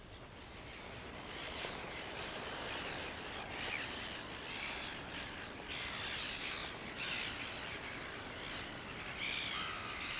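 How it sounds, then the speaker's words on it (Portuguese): A large flock of gulls calls in repeated harsh, overlapping squawks as they scramble for fish scraps left by feeding whales at sea, the cries rising and falling over a steady roar of wind and water. "centenas de gaivotas se lançam em busca dos restos e as espécies maiores afugentam as menores"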